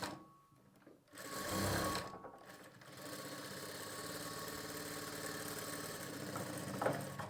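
A sewing machine runs in short stitching bursts while attaching a lining, pausing briefly between runs and then stitching steadily for a longer stretch, close and fairly quiet.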